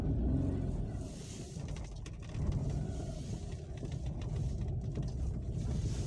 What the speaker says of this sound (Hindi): 3 सिलेंडर इंजन है इसका, तो थोड़ी आवाज जो है कार के अंदर तो इंजन की है